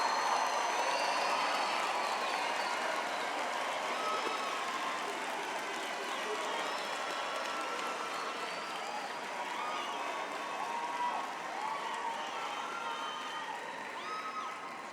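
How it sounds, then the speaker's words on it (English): Parents, relatives and friends applaud the graduates at a university humanities graduation ceremony, a broad steady wash of clapping from a sizable crowd, heard from some distance with faint cheers mixed in. "may I ask the parents, relatives, friends sitting over there for one round of applause in congratulating the graduates"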